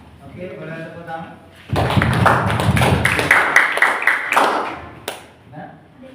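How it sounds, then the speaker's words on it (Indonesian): A classroom group gets a short burst of hand clapping that starts abruptly and runs for about three seconds before thinning into a few scattered claps, with voices talking before and around it. "Oke, boleh tepuk tangan."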